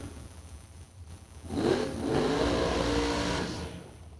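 Drag racing cars launching at a Superbucks Showdown event, with a sudden loud surge of engine roar after a quieter lead-in, sustained for about two seconds before fading.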